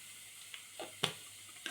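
Kashmiri chili and spices frying in a pan with a quiet, soft sizzle, punctuated by a few brief scraping stirs and one sharper clink, close but faint, no one speaking.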